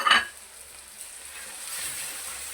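Chicken leg pieces hit roasted masala in a hot pan for murgh musallam: a brief splashy impact, then a steady, close sizzle and frying hiss that carries on alone.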